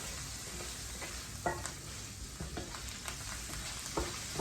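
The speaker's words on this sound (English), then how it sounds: "Give it a good stir." Fish in a white wine and parsley sauce sizzling quietly in a pan, stirred in a few soft scrapes over a steady low bubbling.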